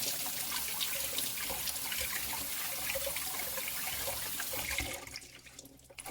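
Tap water runs steadily into a sink as a lunch container is rinsed, a continuous splashing hiss that cuts off near the end, leaving quieter drips and handling.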